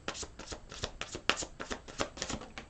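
A deck of tarot cards is shuffled by hand, heard as a quick run of crisp, riffling flicks and taps at close range, fairly quiet and without talk.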